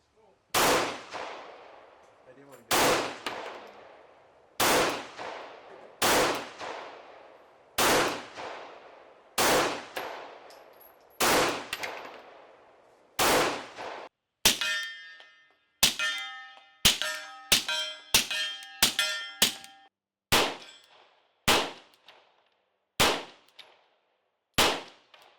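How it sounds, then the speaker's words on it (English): A Rex Zero 1 TC pistol fires shot after shot at steel targets, each sharp report followed by a ringing metallic clang, first spaced out evenly and then coming in a quicker string of hits. "let's go ahead and see this thing in action a little bit, and then we'll go a little bit more in depth into this pistol."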